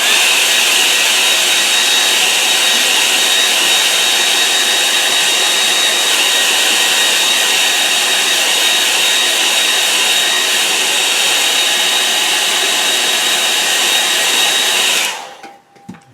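Hair dryer blowing on a painting in progress, a loud, steady close-up roar that runs unbroken for about fifteen seconds before being switched off.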